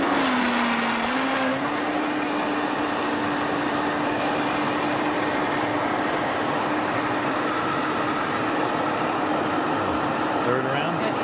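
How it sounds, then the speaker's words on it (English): A blender runs steadily, blending a vegan carob ice cream mixture, a continuous loud whirring motor drone that holds a constant pitch with only a slight shift near the start, throughout the whole stretch. "It has to be blended until nice and creamy"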